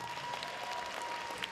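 At the Miss ITMO 2013 awards ceremony, an audience in a hall gives faint, steady applause from a distance, a soft continuous patter of clapping.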